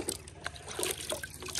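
Venison summer sausages dipped into a container of cold water, giving soft trickling and splashing liquid sounds, close and moderately loud.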